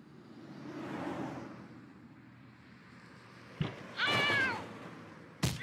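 A cat meows in the point-and-click adventure game Randal's Monday, a few short, close cries that stand out clearly over a quiet background hum.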